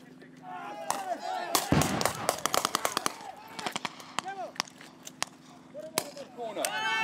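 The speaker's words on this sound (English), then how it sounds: "It looks like some sort of mortar attack, and there are multiple injuries." Simulated mortar blasts and gunfire during a military training exercise: sharp cracks and heavy booms, some in rapid bursts, with a loud cluster of explosions early on, mixed with shouting voices and chirpy background sounds.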